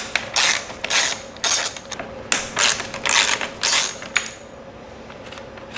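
Screws are backed out of a radiator fan shroud on a 2006-2011 Honda Civic, giving a series of short metallic ratcheting bursts with brief pauses between, close and fairly clear with no talking.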